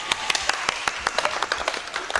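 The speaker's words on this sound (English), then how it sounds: "Can you people clap, please?" Clapping from a small group of people, heard as a loose run of distinct, sharp hand claps at an uneven rhythm, fairly close and over soft background sound.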